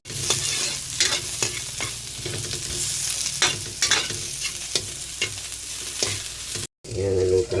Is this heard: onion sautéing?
yes